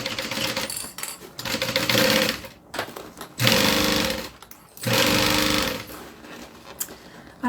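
A sewing machine stitches a bag in loud, close bursts of rapid mechanical clatter, three long runs separated by short pauses.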